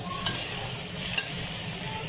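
Okra and minced meat are stirred together in a hot pan, a steady low sizzle with a couple of faint utensil scrapes, close and quiet with no talk.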